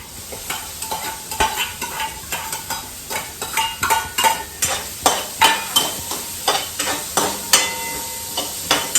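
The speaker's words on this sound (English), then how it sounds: "I think our garlic is done. Sorry. We'll add the onions now." Onions added to a pot after garlic, frying with a soft sizzle while a utensil stirs in a regular rhythm of repeated scraping strokes, close and clear with no talking.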